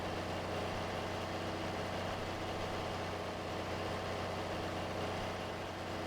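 Steady low drone of a tractor engine idling in Farming Simulator 22, the tractor fitted with dual wheels; a constant, even rumble with no change in pitch and no talking.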